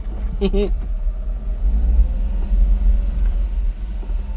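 A Daihatsu Hijet dump truck driving in four-wheel drive, its engine a low steady rumble inside the cab, with a brief voice near the start.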